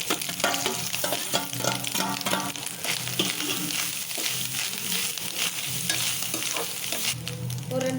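Grated coconut and peanuts fry in a pan for coconut rice, a steady dense sizzle with repeated scraping stirs running throughout, close and fairly loud.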